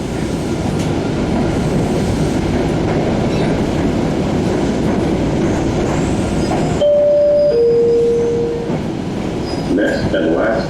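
An MBTA Siemens 700 Series Blue Line subway train rumbles loudly and steadily from inside the car, with brief tonal whines and squeals toward the end.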